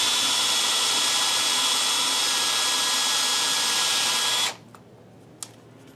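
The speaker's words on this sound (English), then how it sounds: "We're going to drill this dry since it is cast iron." A power drill drilling dry into cast iron whines steadily at close range for several seconds, then stops abruptly, followed by a few faint clicks and taps.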